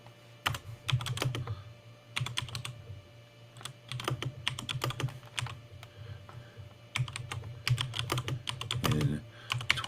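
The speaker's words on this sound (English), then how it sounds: "Sorry about the little dead air there, but I'm typing." Close-up computer keyboard typing in rapid bursts of keystrokes separated by short pauses, over a low steady hum, with no talking.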